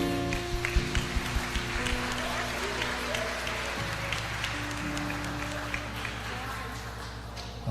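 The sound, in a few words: congregation applause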